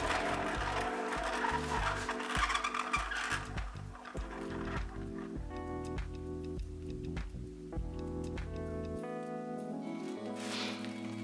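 A spinner turns an acrylic pour painting, giving a steady mechanical whir with ratcheting ticks and clicks that shift in pitch as it runs, close up and moderately quiet.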